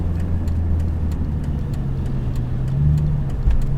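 BMW E46 M3 with SMG gearbox coming to a stop: a steady mid-pitched engine drone from inside the car, easing off with a slight rise and a soft clunk near the end.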